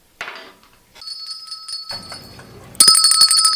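A hand bell rung in a morning-show studio: a soft strike, then a clear sustained metallic ring, followed by a second, louder and brighter ringing that carries on to the end.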